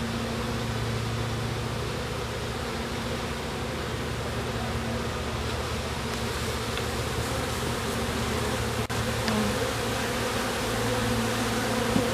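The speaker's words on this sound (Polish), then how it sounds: "To jest mój ostatnio osadzony rój. Tak się zachowuje, a nie inaczej." A recently hived honeybee swarm buzzes loudly and steadily, a dense close drone with no pauses.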